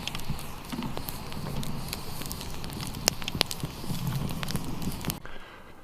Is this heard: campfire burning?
yes